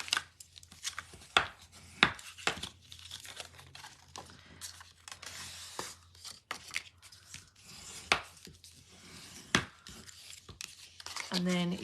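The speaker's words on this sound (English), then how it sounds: "So we're just burnishing those score lines now." Bone folder or burnishing tool rubbed along score lines on paper during a papercraft build, giving brief scraping and rubbing strokes with a few sharp taps, fairly close, under a steady low hum.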